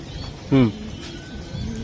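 A racing pigeon, a female, gives one short throaty coo close by, lasting well under a second, amid quiet room noise.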